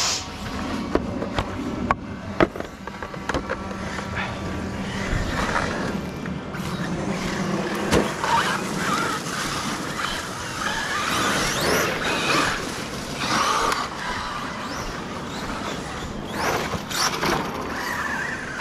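A Traxxas Maxx 6S RC car on new wheels drives through the woods, its motor whine steady and close, mixed with crunching, scrabbling tire noise over rough ground and no talk.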